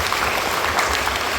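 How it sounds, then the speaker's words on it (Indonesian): An audience claps at a Central Papua government send-off ceremony for students, a dense, steady burst of applause that fills the whole moment with no speech over it. "Mari kita beri aplaus untuk"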